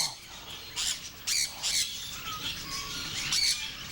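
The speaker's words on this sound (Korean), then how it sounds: "이곳에서 먼저 반겨준 건 아름답게 들려오는 새소리다." Colorful parrots on a spacious bird farm give repeated sharp squawks and chirps, several birds calling close by in bursts over a light background hiss.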